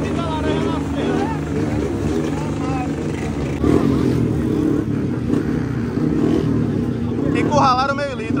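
Many motorcycles at a crowded motorcycle festival, Varredeira Fest 2023 in Conceição da Feira, Bahia, a constant dense engine drone with revving bursts under loud crowd noise and people talking.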